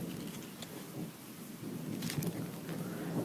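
A thunderstorm in Italy: faint, steady rain hiss with soft low rumbling that swells slightly, distant and quiet throughout, with no voices.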